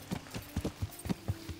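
Horse hooves clip-clop at a steady walking rhythm in the medieval video game Kingdom Come: Deliverance, with about eight even, moderately loud footfalls and no talk.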